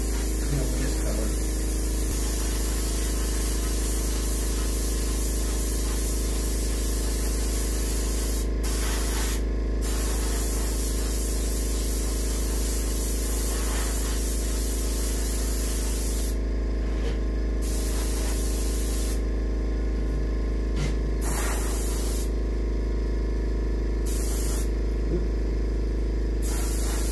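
Airbrush or spray gun hissing steadily while painting a muskie for taxidermy, a continuous close spray with several brief pauses and restarts, no voices.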